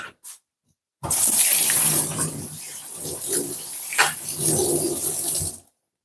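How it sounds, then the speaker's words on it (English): Hands being washed under a running kitchen tap while cooking curry chicken, a loud, close, steady gush of water lasting several seconds with splashing variations, then shutting off abruptly. "I'm gonna wash my hand off"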